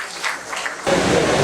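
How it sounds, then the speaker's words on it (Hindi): A room breaks into loud, steady clapping partway through, a dense crowd applause that keeps going to the end, welcoming a poet at a Hindi poetry gathering in Chandausi. "आपकी भी जोरदार तालियों से स्वागत"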